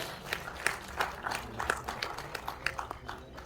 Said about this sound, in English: Can I have a huge round of applause, please?